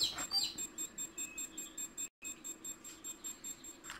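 An Over Easy Advanced egg incubator used for hatching hen and rhea eggs gives off a faint, steady train of short, evenly spaced electronic beeps, about three per second, with one brief gap midway and no talking.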